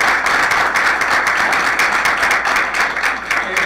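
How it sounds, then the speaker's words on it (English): A hall audience at a city State of the City address bursts into sustained applause, dense steady clapping from many hands filling the room throughout, with no voices over it. "I appreciate the applause"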